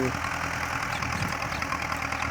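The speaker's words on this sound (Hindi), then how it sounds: "तो गाड़ी का आवाज़ भी अच्छा है, इंजन टाइट है बिल्कुल।" A Belarus tractor engine runs at a steady idle nearby, with a continuous mid-low drone and faint knocking rhythm throughout the brief stretch.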